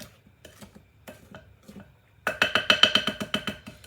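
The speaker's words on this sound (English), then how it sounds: "Then we're gonna give it another little mix for a couple of seconds." Brownie batter gets stirred with a wooden spoon. A few soft, scattered knocks give way to a fast, regular run of loud clacks and scrapes against the bowl, close up, with no talking.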